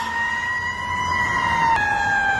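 A fire engine siren wails steadily on a city street, a loud sustained two-tone whine holding level throughout with a slight pitch shift near the end.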